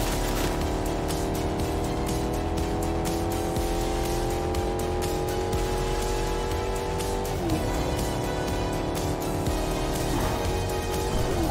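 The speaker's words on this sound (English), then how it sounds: "There's a car! Right there!" Car engine in the video game Fortnite hums at a steady drone that rises and falls with revving, with a couple of brief pitch dips as it drives on continuously.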